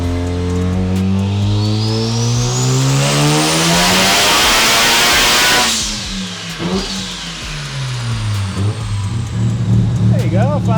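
A Mazda RX7 rotary engine on a dyno climbs in one long loud rev, pitch rising sharply, then drops off and settles into a rough, burbling idle with small blips near the end.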